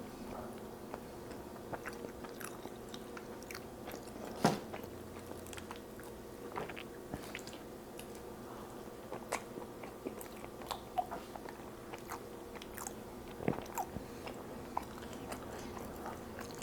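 Taco Bell tacos being eaten up close, faint crunchy bites and soft wet chewing repeating through a quiet stretch, with occasional louder crunches and no talking.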